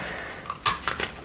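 Scissors snipping through paper during a card deck unboxing, a few short crisp cuts close by, quiet and alone, with the sharpest snip near the middle.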